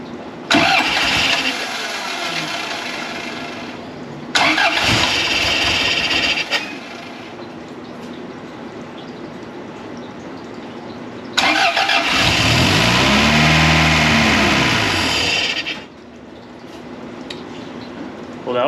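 A Fiat 124 engine after a rebuild cranks repeatedly without catching, likely flooded with fuel from the injectors; loud, close starter churning comes in several long bursts separated by pauses.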